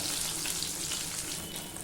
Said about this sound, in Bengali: এই যে দেখেন মাছটা এবার আমি উল্টিয়ে দেবো, লাল করে কড়া করে ভাজবো।